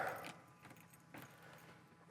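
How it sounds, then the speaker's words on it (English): Car keys for a 1957 Ford Thunderbird jangle in short, faint metallic bursts, a few scattered clinks separated by quiet pauses, with a sharper jingle at the end. "Keys over here."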